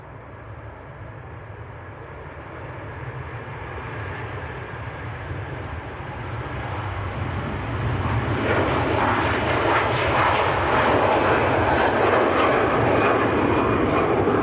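Virgin airliner on the ground at Manchester Airport, heard from a distance as a steady jet engine roar that swells louder and rougher partway through as it powers up for takeoff, with no voices.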